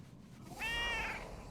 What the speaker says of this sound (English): Such a vocal cat.